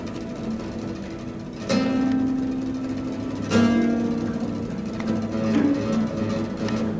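Guitar harmonics played during a festival workshop, with a few bell-like ringing tones struck at intervals over a steady background hum of the room, moderately loud and close with no talking.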